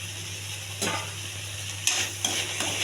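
Mushroom curry with coconut powder being stirred in a pan, a few soft scraping and clinking strokes breaking a steady low hum, close and fairly quiet with no talk.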